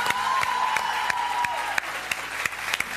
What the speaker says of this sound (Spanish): Divina la banda, un aplauso grande.